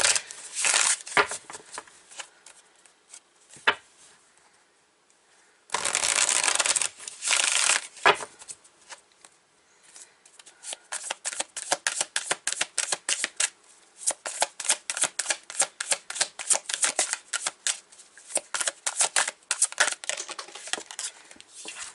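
Light Seers Tarot cards being shuffled by hand, with a burst of riffling early on and then a long run of quick, crisp card slaps in a steady rhythm, close and fairly loud with no talking.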